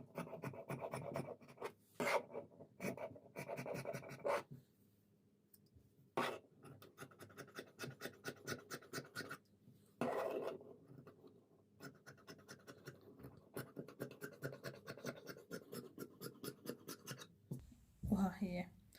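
Fabric being cut for dressmaking, close-up, with rapid rhythmic scratchy snips and rasping strokes in several runs separated by short pauses, while someone talks at times.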